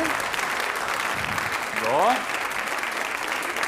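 A German television studio audience applauds steadily throughout, a dense wash of clapping that swells briefly in the middle while someone talks over it.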